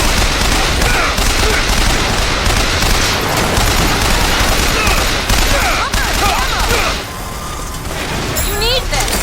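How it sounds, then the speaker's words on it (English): Rapid, loud bursts of turret gunfire in the BioShock Infinite combat, steady throughout with dense mechanical crackle and a brief dip near the end as sharp whooshing effects cut in. "And that one will give us a turret."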